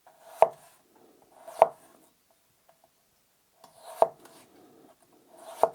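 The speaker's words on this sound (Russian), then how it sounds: "Я сейчас попробую нарезать картофельный пай. То есть это тонкая соломка." Four crisp knife strokes from a Tefal EverSharp kitchen knife slicing potato into thin straws on a board, each a sharp close chop spaced about a second apart with a pause in the middle.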